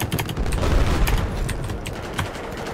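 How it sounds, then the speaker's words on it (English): Battlefield 4 combat: rapid, dense bursts of gunfire and booming rocket impacts crackle loudly and continuously, with no pause in the barrage. "I'm being shot at with rockets"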